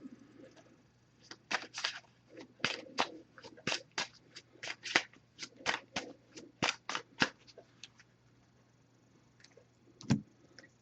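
Quick, crisp flicks and rustles of oracle cards being shuffled, repeated in a brisk irregular rhythm, close up and fairly quiet.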